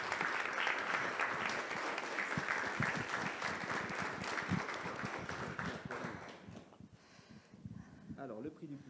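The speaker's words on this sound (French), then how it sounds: "Vous pouvez les applaudir." Audience applause for prize winners at a regional competition award ceremony, a sustained dense wash of clapping for about six seconds that thins out toward the end as a voice begins speaking.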